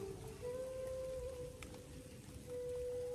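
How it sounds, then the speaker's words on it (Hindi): Steady rain falls at night in the open during a cold winter spell in Braj, a continuous soft wash of drops with a faint steady tone running underneath, no voices. "ये देखिए ना बारिश पड़ रही है"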